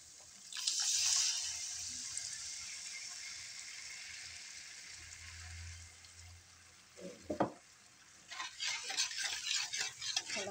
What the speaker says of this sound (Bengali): এটার মধ্যে দইটা দিয়ে দিচ্ছি।